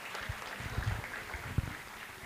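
Audience at a school annual function keeps clapping, a soft, steady patter of many hands heard from a distance with a few louder claps standing out.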